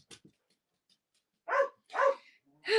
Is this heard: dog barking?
yes